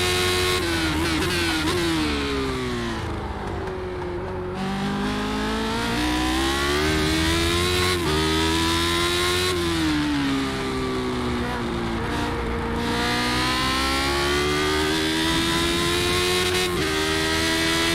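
Classic Lotus race car in the iRacing sim at Phillip Island, its engine screaming loud and close throughout, pitch rising and dropping sharply with repeated upshifts and revs near the limiter.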